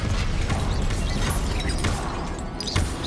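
An Incendio fire spell cast in the video game Hogwarts Legacy sounds as a dense, loud burst of whooshing, crackling effects amid clanking mechanical game sounds, with no voice.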